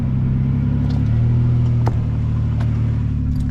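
Off-road trail climb near Maupin, Oregon: a truck engine drones loud and close in a steady low rumble, with a brief clunk partway through and no voices.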